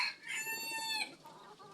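Laying hens cluck and cackle close by in a short, loud burst of tonal calls that tails off. No one speaks over it.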